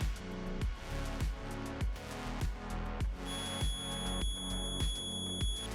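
A faulty SSD gives a steady, piercing electronic beep that cuts in partway through, sounding over a loud repeating mechanical pulse that thumps in a regular rhythm.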